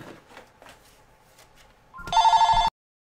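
A telephone rings with one loud burst of rapid, pulsing electronic ringing near the end, after a few seconds of quiet, faint background sounds, then cuts off abruptly.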